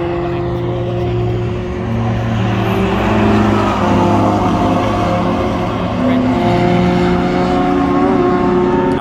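A wide-body Mazda MX-5 Miata driving on a race track, its engine a loud, steady drone with sustained tones that rise and fall slightly across the whole stretch.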